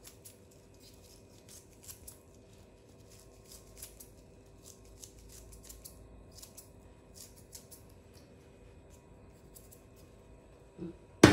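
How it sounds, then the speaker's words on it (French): Scissors snip roughly through fresh basil leaves in a home kitchen, a run of soft, quiet, irregular cuts over a low background hum, ending in a louder clatter. "Le basilic que je vais couper grossièrement avec des ciseaux"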